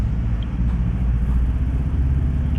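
A 2018 Honda CB500F motorcycle with a broken radiator rides along, its engine a steady loud low rumble with constant road and wind noise throughout, no speech.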